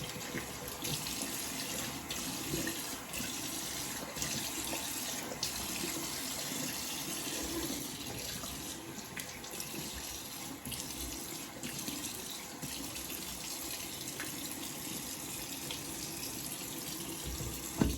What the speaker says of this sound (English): Warm water rinse followed by a cold water rinse.